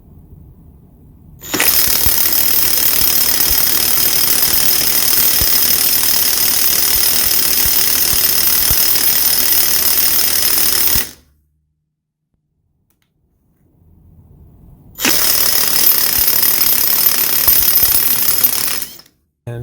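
A Makita DTW700 mid torque impact wrench hammers loudly on a Skidmore tester in a long, continuous rattling burst, stops for a few seconds, then fires again in a second sustained run.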